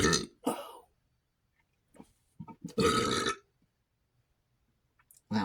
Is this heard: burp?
yes